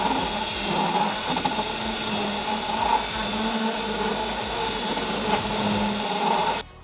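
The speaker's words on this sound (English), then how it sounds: "You can use a piece like this on a drill or die grinder just to open that up a bit" A drill or die grinder enlarges a seatbelt mounting hole in a car body, giving a steady, loud, continuous high grinding whine for several seconds before cutting off abruptly.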